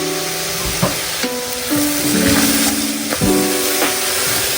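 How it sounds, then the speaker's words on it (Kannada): Goat leg frying with salt and turmeric in a pan, giving a steady loud sizzle and hiss, with a few clanks of stirring and a constant tonal hum behind it. "ಉಪ್ಪು ಅರಿಶಿನ ಜೊತೆ ಇವಾಗ ಚೆನ್ನಾಗಿ ಫ್ರೈ ಆಗಲಿ."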